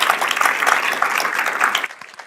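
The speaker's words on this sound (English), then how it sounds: "Let's give Daniëlle a warm round of applause" An audience claps warmly after a science pitch at a university event, a dense burst of applause that holds steady, then thins out quickly at the end.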